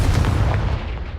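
Confringo fire spell blasting in the Hogwarts Legacy video game, a loud booming impact with a rumbling low-end roar that decays over about a second.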